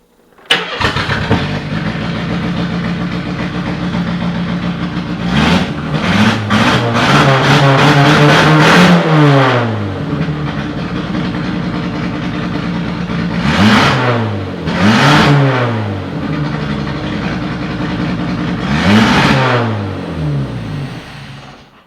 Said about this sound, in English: let's see if we can get this thing started